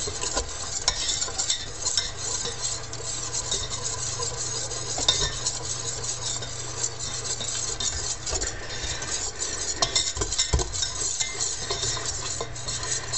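Flour stirred into hot butter in a pan on a medium stove to make a roux, steady sizzling with continuous scraping and stirring of a utensil against the pan, close and fairly loud, no talking.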